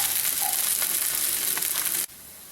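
Ragi and sago roti roasting on a hot pan, a steady broadband sizzle that holds for about two seconds, then drops abruptly to a quieter hiss.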